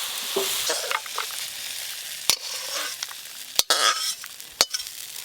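Tomato masala gravy for paneer mixed vegetables frying in a pan, a soft sizzle broken by several sharp scraping strokes of a spatula stirring, close and clear with no voices.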